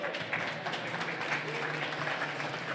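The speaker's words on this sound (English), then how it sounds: "Round of applause." Conference audience applause welcoming two speakers, a steady wash of clapping throughout that is moderately loud and unbroken.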